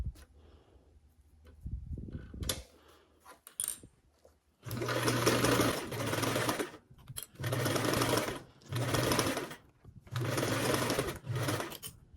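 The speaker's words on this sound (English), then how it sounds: "you go ahead and baste those with a 1/8 seam allowance" A sewing machine bastes fabric pieces with a 1/8 inch seam allowance, running in several short stitching bursts of a second or two each, with brief pauses and faint handling sounds between them.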